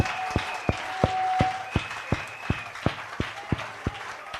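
Slow, spaced hand clapping in a French-speaking church service, a dozen or so distinct claps at an uneven pace with a soft background murmur of the congregation and faint voices underneath.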